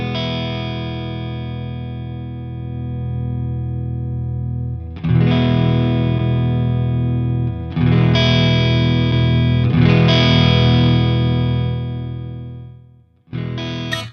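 Distorted electric guitar played through a Friedman IR-D amp pedal, loud sustained chords rung out alone in several bursts with short breaks, ending with a brief pause and a fresh strum.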